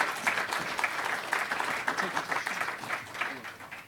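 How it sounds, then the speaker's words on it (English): An audience at a London oil and gas investment conference applauds a presenter, a moderate round of clapping from a modest crowd with faint voices mixed in. "Round of applause for John Morrow"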